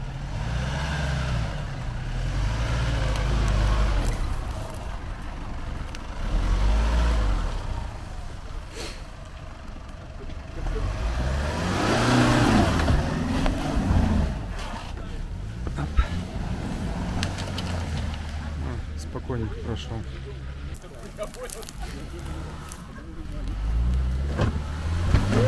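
A Nissan Navara pickup on all-terrain tires climbs an off-road track, its engine droning steadily and rising in bursts over about 25 seconds, with people talking over it.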